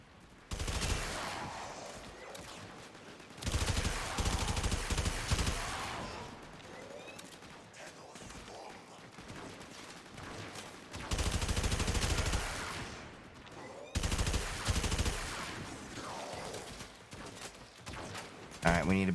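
Bursts of automatic gunfire from a self-reloading gun in the video game Warframe, coming in several loud, dense volleys separated by quieter stretches of game sound and talk.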